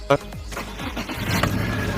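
Honda car with a faulty petrol fuel injector cranking and catching, a brief sharp start followed by an uneven idling engine, with a voice talking over it.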